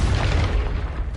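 A Confringo blasting spell from Hogwarts Legacy goes off as a loud, deep boom that rolls on through the whole second, heavy low rumble with no clean pause.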